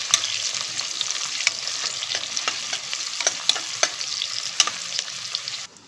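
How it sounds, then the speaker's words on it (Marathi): Onion shallow fries in hot oil, giving a steady close sizzle with occasional sharp pops and a few scraping stirs in the pan, with no voices. "आपण थोडा कांदा शॅलो फ्राय करून घेऊ"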